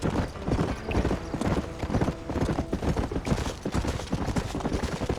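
Horse hooves trot steadily in Red Dead Redemption, a dense close clip-clop rhythm running throughout, with faint background game sounds and no talk.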